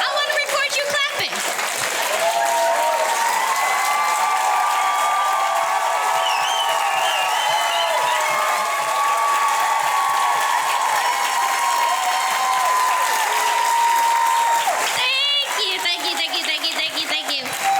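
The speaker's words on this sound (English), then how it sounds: "I want to record you clapping" At a live comedy show, an audience claps and cheers loudly for most of the stretch, the roar swelling into whoops and shouts before thinning near the end.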